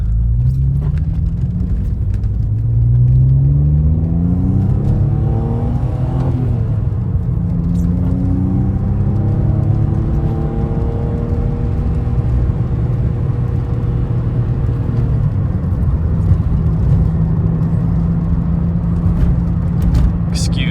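An Alfa Romeo 155 with a Busso V6 engine is heard from inside the car as it drives, a loud steady engine drone rising and falling through the gears under road rumble, with no talking.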